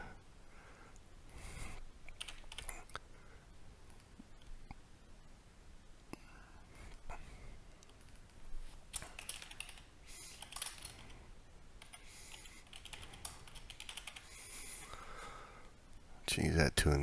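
Soft clicking of typing on a computer keyboard while laying out text for laser engraving on an xTool M1, faint irregular taps under quiet breathing and occasional muttered speech.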